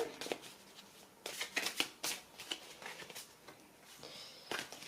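Tarot cards being shuffled during a French card reading, a steady run of soft riffling and papery flutters with short pauses between bursts, fairly quiet and close, with no talking.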